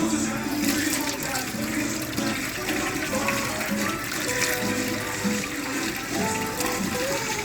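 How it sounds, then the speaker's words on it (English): Hot water is strained off bhaji leaves after soaking, giving a continuous close splashing and pouring that varies in strength throughout. "the leaves have been soaking in the hot water for about 15 minutes, and now I'm going to strain it"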